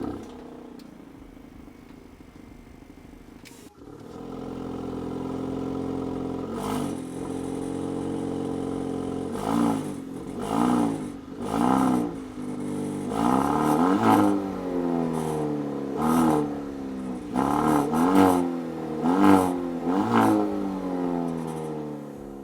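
A 2024 Maserati Grecale with a four-cylinder engine idles, then revs hard in a series of loud, rising bursts that come closer together toward the end.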